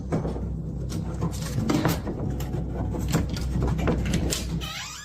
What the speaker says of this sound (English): All the kitchen cabinets and drawers open by themselves within seconds when they turn their back on him.